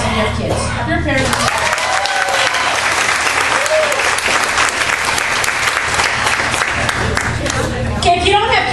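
A New York City comedy club audience claps in a dense, sustained burst of applause, loud and close, with a comedian's voice heard briefly at the start and again at the end.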